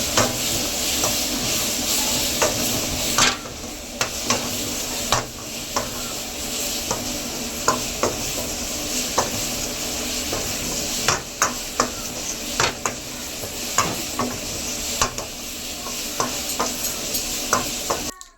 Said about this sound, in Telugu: నెక్స్ట్ అలానే కట్ చేసిన పచ్చిమిర్చిని ఆనియన్స్ని కూడా వేసుకోవాలి.